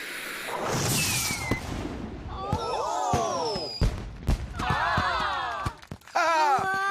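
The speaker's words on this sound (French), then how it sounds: "Et maintenant, place au feu d'artifice géant." A cartoon giant firework rocket, big as a carrot, goes off in a string of whooshes, swooping whistles and sharp bangs, with crackling bursts and falling tones spread over several seconds, loud and near.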